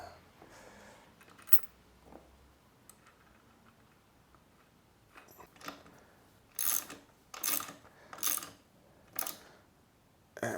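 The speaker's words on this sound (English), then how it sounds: "this tool makes it really easy to press in the cups and minimize any chance of damage to the cups" A steering head bearing cup is pressed into a motorcycle frame with an installation tool, giving a series of sharp metallic clicks and creaks, faint at first and then louder in several distinct bursts.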